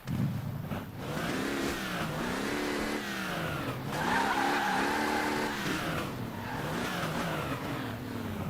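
Video game crash test of cars, some fitted with a mag piston, with engines revving and rising and falling in pitch, tires squealing, and skidding, loud and continuous with no talk.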